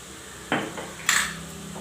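A spoon mixes spice powders of chilli, turmeric and coriander into coconut oil in a pan for Malabar fish curry. Two distinct metallic clinks and scrapes rise over a faint steady sizzle, close up and with no voices.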